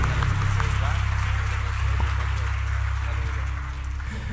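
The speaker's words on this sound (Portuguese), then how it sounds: "Mais uma salva de palmas." Church congregation clapping during a worship service, a steady broadband wash of applause over a low hum, mixed with voices and continuing throughout.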